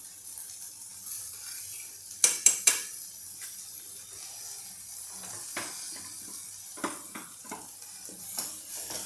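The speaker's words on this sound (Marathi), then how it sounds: "याला छान हलवून घेऊया" Corn kernels are stirred in a pan while making ragi ravioli, producing a steady faint sizzle with a few sharp spoon clinks against the pan and scattered scraping strokes.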